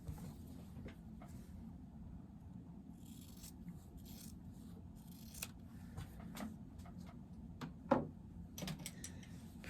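Scissors snip through quilting fabric, trimming about a quarter inch off a seam; a few soft, faint cuts in a quiet room, with one slightly sharper snip near the end.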